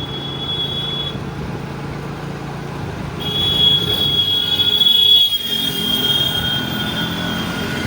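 A train on the line between Jaleswar and Balasore rolls past close by, its wheels squealing in a sustained high whine over a steady rumble that swells midway.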